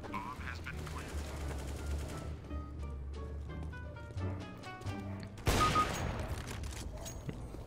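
Rapid bursts of CS:GO gunfire crackle in quick volleys over background music, ending with a louder blast; a voice speaks faintly underneath.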